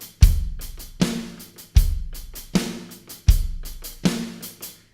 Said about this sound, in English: we're going to move it up to the hi-hats, and we're going to play a closed hat